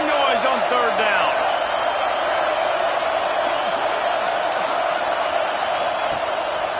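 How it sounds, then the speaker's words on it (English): A large Georgia football stadium crowd roars steadily on third down against Maryland, a loud continuous wall of noise with scattered whistles and shouts throughout. "This dog crowd is off the leash, and they are coming after them, bringing noise on 3rd down."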